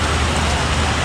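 Rain pours steadily during a long motorbike trip toward Đà Lạt, a dense, even hiss filling the whole brief moment.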